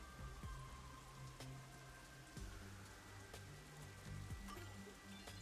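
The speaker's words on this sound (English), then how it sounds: "The rain just won't stop, huh?" Steady rain falls in the video game Rain Code, a soft continuous patter of drops on surfaces with occasional louder drips and low tones underneath, faint and with no voices.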